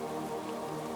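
Rain falls steadily in a forest, a soft continuous hiss of drops with no distinct individual impacts, close and even throughout.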